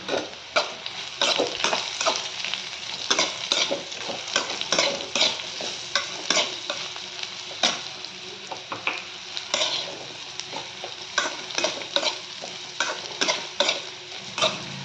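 Bitter gourd sizzles and fries in hot oil with a few curry leaves while a spoon stirs it steadily, giving continuous crackling with repeated scraping strokes close up and no talk.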